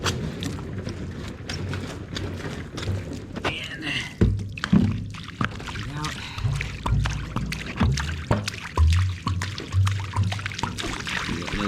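Cleaning liquid sloshing and splashing inside the fuel tank of a 1965 VW Beetle as it is shaken, with irregular thumps and gurgles continuing steadily at close range.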